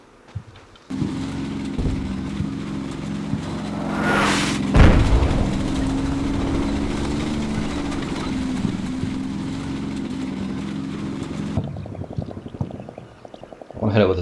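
T-62 tank in Combat Mission Shock Force, a loud steady engine drone with a heavy boom and sweeping whoosh near the start, running continuously for about eleven seconds before cutting to quieter rustling.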